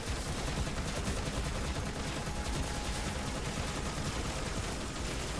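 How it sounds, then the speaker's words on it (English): Gatling guns firing at a boss in the tower defense video game Colony Siege: a dense, continuous roar of rapid gunfire at steady loudness, with no pauses and no talk. "Those Gatlins are just getting him."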